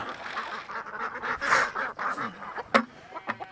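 Ducks and geese honk and quack in bursts as feed is poured out for them on a farm, a busy chattering flock close by with one sharp louder call near the end and some talk underneath.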